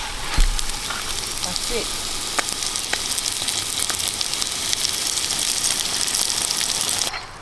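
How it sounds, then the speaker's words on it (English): Fish frying over a cooking fire on a beach gives a steady, loud sizzle throughout, with a brief spoken remark early on and small crackles and pops scattered across it. "We cook fish on the beach."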